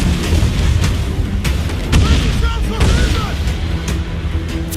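In Assassin's Creed IV Black Flag, a ship's cannons fire in deep booming blasts over constant wind and sea noise, with battle sounds close by and crew voices shouting.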